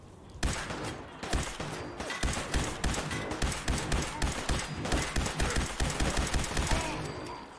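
Rapid bursts of laser pistol fire in Fallout 4, loud, close and continuous, with steady repeated shots over about seven seconds during a fight against ghouls.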